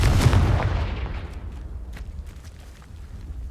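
The Confringo fire spell in the video game Hogwarts Legacy bursts with a sudden booming blast that quickly fades into a crackling tail and faint scattered debris.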